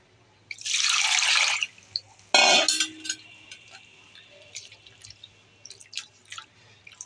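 Dried kachki fish being washed in water: a sustained pour or splash, then a second short gush, followed by scattered drips and light sloshing, close and fairly quiet.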